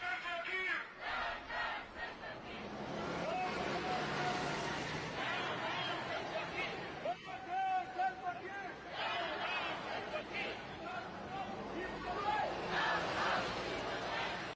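Thousands of residents protest in the streets demanding the release of First Vice President Riek Machar, their chanting and shouting rising and falling in waves of crowd noise, with loud collective cries standing out over the din.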